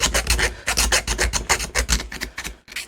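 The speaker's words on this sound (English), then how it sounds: "we can file it and then squish it a bit. Find some kind of suitable file" A hand file rasps back and forth against the metal of a computer case, a steady run of loud, close strokes in an even rhythm, alone without speech.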